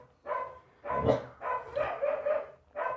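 A pet dog barks at someone passing by in the street, giving several short bursts of close, loud barking in an uneven rhythm with brief pauses between them.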